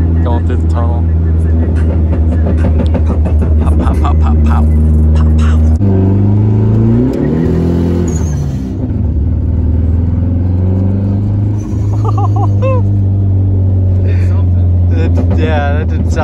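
The engine of a turbocharged Chevrolet Cavalier revs hard and loud close by, holding a heavy droning roar that dips and surges again, with crackling pops toward the end and voices talking over it.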